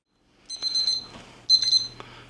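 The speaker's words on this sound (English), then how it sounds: "All right, the timer is up at 15 minutes." A kitchen timer alarm beeps loudly in two short bursts of rapid high-pitched chirps, sounding while cinnamon rolls bake at 375 degrees; no talking is heard.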